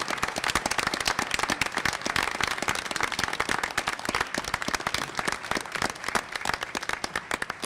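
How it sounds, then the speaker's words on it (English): Dense applause from the audience at a Newport School Committee evening meeting honoring Pearl Emerson, sharp overlapping claps sustained steadily throughout at close range. "Let's have another round of applause for Pearl Emerson."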